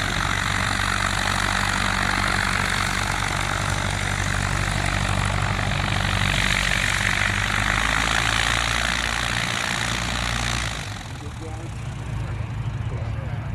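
Propeller airplanes run loudly and steadily at a fly-in event, a thick continuous engine drone with propeller buzz that eases slightly near the end, while people talk over it.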